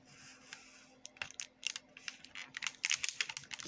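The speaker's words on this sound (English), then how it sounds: "I'm just going to cut off a piece right here." A knife cuts into a jumbo Oreo cupcake with close, irregular crisp scraping and tapping sounds that grow busier and louder toward the end.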